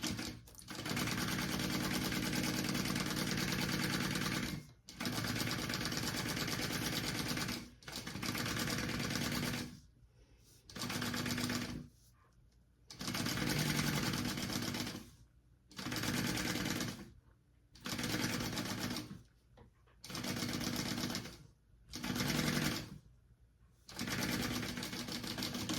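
Sewing machine basting fabric pieces together runs in loud continuous bursts of rapid needle stitching, about a dozen runs separated by short pauses, close up with no talk.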